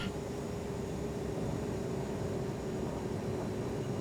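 A Coast Guard Falcon jet on landing, heard from inside as a steady, dense engine and airflow roar with a constant low hum, unbroken and without talk.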